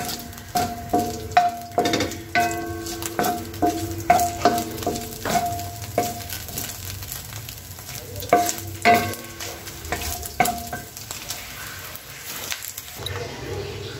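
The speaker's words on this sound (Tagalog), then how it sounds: "Isasama na natin igisa yung kanyang bawang at sibuyas." Garlic and onion sautéing in a pan for a noodle soup, with loud rhythmic stirring scrapes and clanks over a low sizzle, a voice talking at times.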